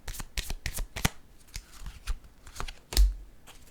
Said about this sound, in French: Je vais y aller avec une carte rose ici.